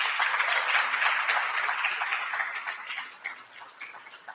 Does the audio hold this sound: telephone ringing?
no